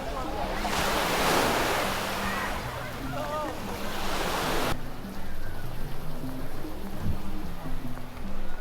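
Ocean surf rolls onto a crowded Dubai beach, a broad steady wash with heavy wind buffeting the microphone at first, and faint voices mixed in.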